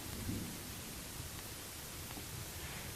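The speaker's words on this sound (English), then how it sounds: "Maybe wait out a storm for a little while." A low, rumbling roll of distant thunder blends into a steady hiss of rain in the Irish Wilderness of southern Missouri, continuous and fairly quiet throughout.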